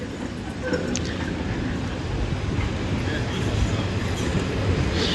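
A tram in a Polish city street rolls past with a steady, loud rumble and rail clatter, a continuous wash of noise throughout.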